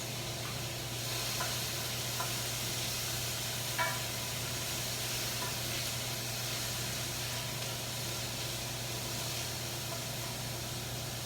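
Peppers and potatoes frying in hot oil in a sauté pan, giving a steady, even sizzle and hiss throughout with a faint clink or two and no talking.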